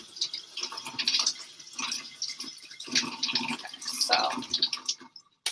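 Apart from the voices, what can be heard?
water running while washing cucumber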